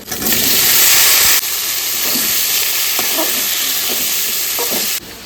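Taro curry pieces hit hot oil tempered with bay leaf and start a loud, steady sizzle, with a few light knocks from stirring in the pan.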